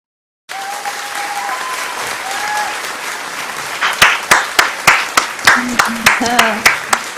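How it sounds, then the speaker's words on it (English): Applause from a live music audience in Camden swells and is joined by rhythmic clapping in unison, with voices calling out over it. "Nice to hear that applause."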